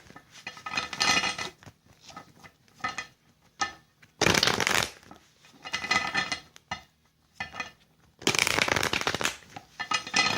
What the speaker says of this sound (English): Okay, I'm going to shuffle for you.